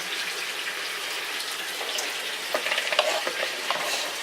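Garlic and onion fry in a pan with a steady close sizzle. Soft scraping stirs punctuate it toward the end, and no one speaks.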